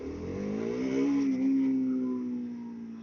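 A motorcycle engine revs up and settles, a single smooth rising and falling drone at moderate loudness, heard alone.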